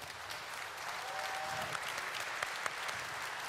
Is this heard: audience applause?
yes